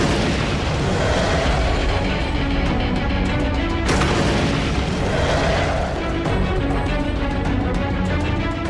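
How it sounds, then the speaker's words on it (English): An MG-42 machine gun fires in a Normandy invasion battle scene. Dense, continuous booming and rapid bursts run throughout, loud and unbroken, with a sharp crack near the middle. "an MG-42 machine gun, firing 25 bullets a second."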